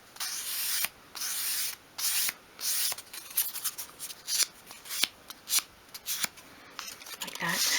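Fine grade sandpaper rubbing the edges of a small wooden piece for a 1/12th scale dolls house cupboard, a series of short close scratchy strokes separated by brief pauses.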